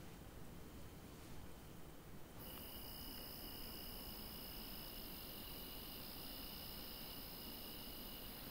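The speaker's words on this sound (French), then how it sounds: "Tu sais que ça peut atteindre 100 décibels quand même, le chant des grillons." Crickets chirp in a continuous, even, high-pitched drone, faint and steady throughout, with no voices and a brief shift in tone early on.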